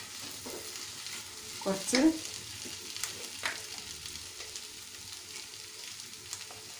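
Curry leaves and green chillies drop into hot oil with a brief louder crackle and spatter, then a faint steady sizzle with occasional stirring scrapes. A voice speaks a word briefly.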